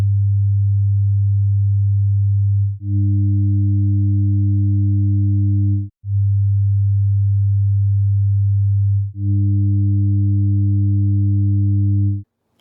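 A steady low sine tone, alternating between a pure version and one with about 5% total harmonic distortion, split between second and third harmonics, making it buzzier, switching back and forth in long even blocks.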